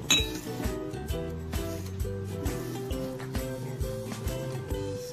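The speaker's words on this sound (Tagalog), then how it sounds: "isasali na natin siya sa ating baso. Meron tayo ditong 4 na baso." Glasses clink and ring repeatedly as a banana shake is poured into four drinking glasses, the bright chimes overlapping in a steady run with no talk.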